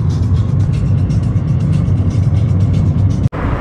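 A car drives through Volgograd, heard from inside as a steady, loud low road and engine rumble, with a sudden brief dropout near the end.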